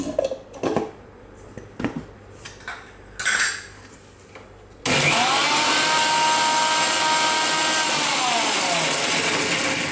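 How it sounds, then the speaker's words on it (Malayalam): A mixer jar blends homemade mayonnaise with oil and salt, kicking in abruptly after a few light clinks and handling knocks into a loud, continuous whirring grind that holds steady to the end. "അപ്പോൾ ഇനി ഇതൊന്നും കൂടി ഒന്ന് അടിച്ചെടുക്കുക."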